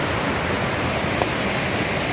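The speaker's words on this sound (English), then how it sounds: "This is Loafer Creek" Loafer Creek rushing beneath a bridge on the North Umpqua Trail near Lemolo Lake, a steady close broadband wash of flowing water filling the whole stretch, with no voices.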